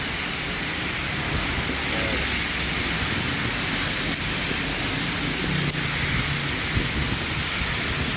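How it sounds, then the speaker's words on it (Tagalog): Heavy rain pours along Hilpuyat Avenue, a dense, steady hiss of downpour on the road and surfaces, loud and unbroken throughout with faint low rumbles underneath. "napakalakas pa rin yung ulan"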